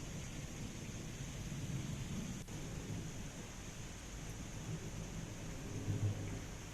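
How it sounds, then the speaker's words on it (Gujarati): Heavy rain falls as a dense, steady roar during a thunderstorm in Umreth, Anand district, Gujarat, with low rumbles of thunder underneath and no voices. "વીજળીના કડાકા ભડાકા સાથે ધોધમાર વરસાદ વરસ્યો"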